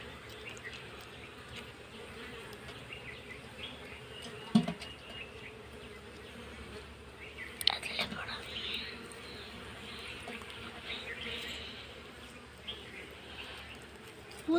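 Honey bees hum and buzz steadily during a honey harvest, a moderate continuous drone with a few louder passes close by and faint background noise throughout.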